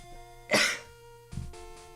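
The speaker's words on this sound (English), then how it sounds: "Gonna go cough." A single sharp cough, followed a moment later by a rougher throat-clearing rasp, close by against a faint background hum.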